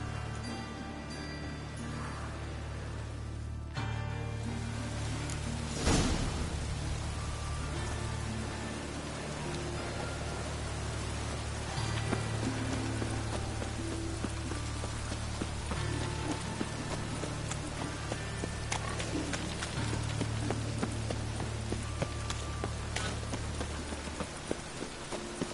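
Continuous broadband rain patter in the video game Skyrim with a low steady hum underneath, occasional knocks and rhythmic thuds like hoofbeats, no talking.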